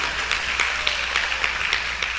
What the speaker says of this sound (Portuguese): Eu quero que você aplauda forte, aplauda bem forte a palavra de Deus.